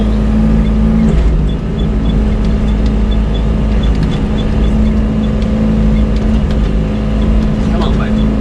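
An excavator scoops mud at a leaking pond dam, its heavy engine droning loud and steady throughout with faint clanks and hydraulic shifts over the top.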